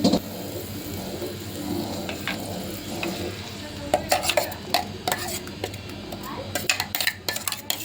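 Prawn curry with tomato and ground coconut paste stirred in a pan, close frying sizzle with bursts of spoon scraping and clattering against the pot, faint voice in the background.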